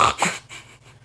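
A dog breathing in quick, short huffs and snorts, close to the microphone, with a couple of sharp breaths at the start trailing into softer, rapid panting.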